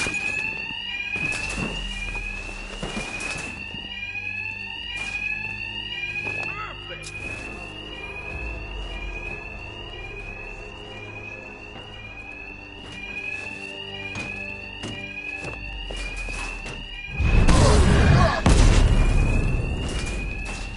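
A ringing alarm in a Batman video game sounds as a steady, repeating high electronic tone throughout, mixed with thuds of combat and a loud burst near the end, while a voice talks over it.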